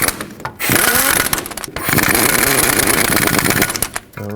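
A power impact tool snugs up wheel bearing hub bolts on a Chevrolet Express 3500, a loud sustained buzzing whir in several bursts with short pauses between them, close and alone.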